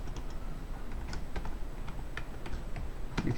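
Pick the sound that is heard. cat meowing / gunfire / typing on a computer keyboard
typing on a computer keyboard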